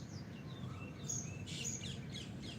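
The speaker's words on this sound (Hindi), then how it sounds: "पक्षियों की मधुर आवाज" Birds sing in the morning open air, scattered thin chirps and whistled calls, some near and some farther off, over a soft steady background hush.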